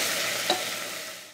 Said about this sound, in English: Make sure the coconut oil is hot and then add the chopped onion into the pot. It should sizzle.